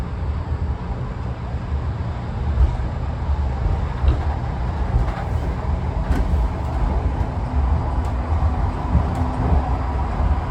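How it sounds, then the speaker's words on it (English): An airport tram pulls away from a station, with a steady low rumble and rolling mechanical noise that builds gently and continues throughout. "The tram is departing this station."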